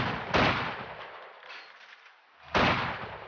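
Two loud bursts of gunfire in the World War II strategy game Company of Heroes 2, each a heavy crack with a long booming tail, spaced about two seconds apart, no voices.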